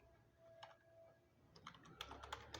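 Keystrokes on a computer keyboard during a Python programming lesson, a few isolated taps at first and then a quicker burst of clicking near the end, faint and close with no talking.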